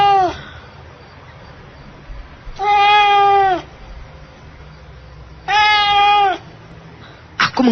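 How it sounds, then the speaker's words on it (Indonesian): A black cat meows twice in long, clear, insistent cries, then gives a brief third call, close by over a low steady background hum with no talking. "Aku mengusir kucing itu"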